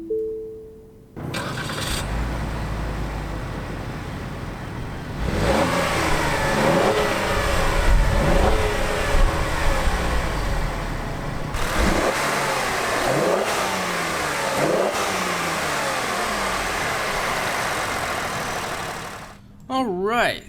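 A 2016 Lincoln MKX's 2.7 liter twin turbo V6 engine starts and then revs repeatedly, rising and falling in bursts of throaty acceleration, loud and close, with idling between the revs.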